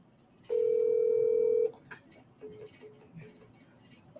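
A FaceTime video call rings out unanswered, one loud steady electronic tone lasting about a second, followed by faint clicks and quiet background noise.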